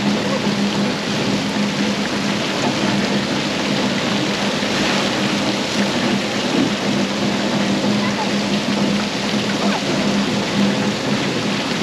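Water splashing steadily in a bathroom, a dense continuous hiss and patter that fills the whole stretch at an even, fairly loud level, with no talk standing out over it.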